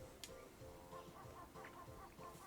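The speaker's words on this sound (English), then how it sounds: "her like clucking is gonna be most of the audio" A hen clucks quietly in short repeated notes, fairly faint against a soft background murmur.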